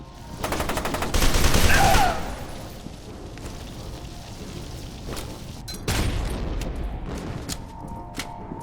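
Gunfire and a grenade blast in the first-person shooter FEAR 2: a loud burst of rapid shots and an explosive roar around the first two seconds, then a quieter stretch and another sharp blast with a lingering rumble.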